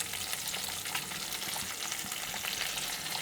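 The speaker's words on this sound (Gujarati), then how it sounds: "થોડીક વાર તેલમાં સંતળાવવા દેવું પડશે." Drumstick masala curry sautéing in hot oil in a Gujarati-style saragva ni sing preparation, a steady, dense sizzle close by with faint stirring scrapes and no talk.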